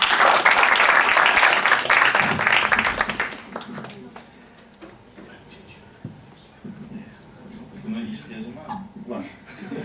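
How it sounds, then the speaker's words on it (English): An audience applauds a student presenter in a classroom, loud dense clapping for about three seconds that quickly dies away, leaving quiet room noise with scattered soft sounds and faint murmuring. "A round of applause for him, please."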